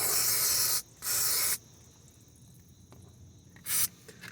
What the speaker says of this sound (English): we'll spray it and let it sit for a while